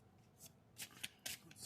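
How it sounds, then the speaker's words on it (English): Tarot cards are shuffled in a few quick, crisp riffling bursts, close but quiet, with no one speaking. "So let me just shuffle up the cards"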